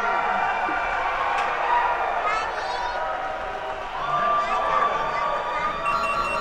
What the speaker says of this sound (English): we hear the USA crowd for the other game in the other court cheering very loudly